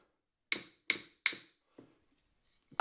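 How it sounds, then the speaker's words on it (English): A metal hammer taps the blade of a Japanese kanna plane three times in an even rhythm: sharp, close, ringing strikes, followed by a fainter knock and light handling sounds. "Tap it with a metal hammer"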